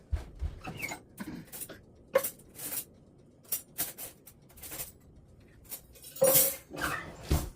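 Metal forks and cutlery clink and clatter in scattered, irregular bursts in a kitchen where meatloaf with vegetables is being served, with one louder rattle near the end.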